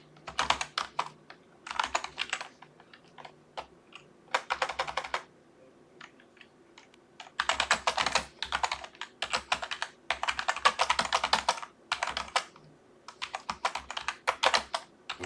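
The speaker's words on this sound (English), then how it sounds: "I'm just typing." Typing on a computer keyboard, close by, in quick bursts of rapid key clicks broken by short pauses, with no talking.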